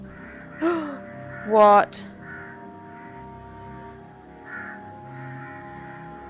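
Crows caw twice in a surreal video game world, one short call and then a louder, harsher burst, over a steady low musical drone, with a brief spoken word from a player in between.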